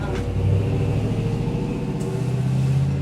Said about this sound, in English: Just wait a second till that truck leaves here